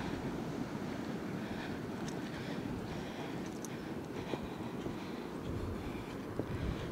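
Ocean waves washing onto a beach in the dark, a steady broadband roar of surf with wind noise on the microphone, continuous and fairly loud with no talking.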